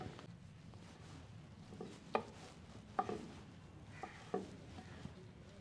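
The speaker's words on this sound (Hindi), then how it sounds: "ये जो पोटे हैं इनको आपने इस तरीके से काट लेना है" A knife on a cutting board slices chicken gizzards into bite-size pieces, giving several sharp separate chops spaced about a second apart over a quiet kitchen background.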